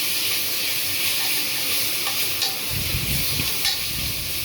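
Shallot paste sizzles and fries in a pan for tomato rice, a steady broadband hiss with stirring scrapes and a louder low rumble of stirring in the second half, no voices.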